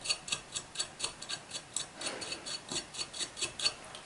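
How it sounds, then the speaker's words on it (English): Nuts spin down very long screws while an amplifier enclosure is assembled, making a quiet, rapid, regular ticking rasp of metal threads, repeated evenly and close up with no talk. "Spinning nuts down very long screws."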